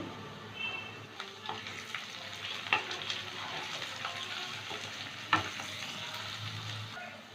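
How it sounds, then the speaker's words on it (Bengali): Carrots and capsicum fry in a pan for chicken pasta, a steady close sizzle with occasional sharper crackles and light stirring scrapes, no voices. "গাজর আর ক্যাপসিকামটা তিন মিনিট ভেজে নিলাম"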